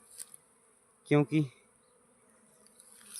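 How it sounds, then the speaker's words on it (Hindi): Honeybees preparing to swarm hum faintly and steadily around a wooden hive box, with a brief spoken word cutting in midway. "जो ये मधुमक्खियाँ हैं ये स्वार्मिंग के लिए रेडी हो रखी"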